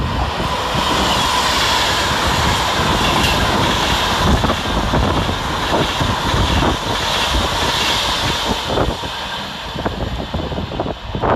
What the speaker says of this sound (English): Passing fast through the middle, 5 minutes late, is 390-119, working 1 mike 10 for Avanti West Coast from Glasgow Central to London Euston